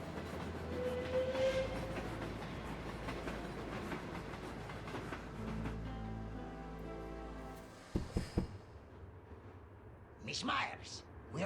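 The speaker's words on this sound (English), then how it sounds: "Well, the train is about to depart." A passenger train in the Alps pulls away in the game Murder in the Alps, a rolling rumble and rhythmic clatter of wheels that fades out, followed by a few sharp clanks and faint voices.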